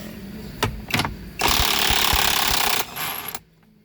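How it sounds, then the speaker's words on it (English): A 24mm socket on an impact tool hammers loose the steering wheel nut of a 2021 Jeep Wrangler JL, with a couple of short bursts and then a sustained rattling buzz of nearly one and a half seconds, close and loud. "the next step is to take this nut off, so I'll do that now"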